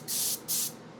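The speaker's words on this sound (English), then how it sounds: "You can see it's kind of like spraying all over the place." An airbrush spray gun puts orange paint onto a model of the Avro Arrow aircraft in two close, loud hissing bursts, each about a quarter second long, with no talk.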